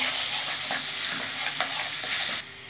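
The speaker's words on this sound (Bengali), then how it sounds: "পেঁয়াজটা দিয়ে দিলাম। ভালো করে কষে নেব যতক্ষণে কাঁচা গন্ধটা দূর হয়" Already-fried onions are sautéed in a hot pan for an egg and cauliflower dalna, giving a close, steady sizzle with rapid stirring scrapes, then the sound drops sharply near the end.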